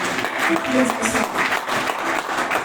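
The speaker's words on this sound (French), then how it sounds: "Est-ce qu'on peut acclamer pour la parole de Dieu?" A church congregation claps and cheers in a lively burst of applause, fairly close, with voices mixed in among the clapping throughout.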